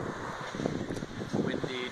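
Steady wind roaring across the open Baltic Sea aboard a ferry from Helsinki to Tallinn, a constant broadband rush with faint voices murmuring underneath.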